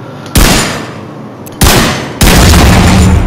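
An exotic pistol fires in The Division 2 video game: three loud, sharp shots, the last two close together, each with a decaying tail.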